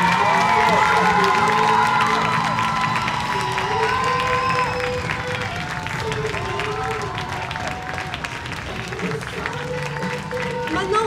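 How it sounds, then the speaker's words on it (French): An audience at an eco fashion show applauds and cheers loudly, with dense clapping, whoops and children shouting, while an amplified voice and music carry over the crowd throughout. "invite à applaudir très fort le public."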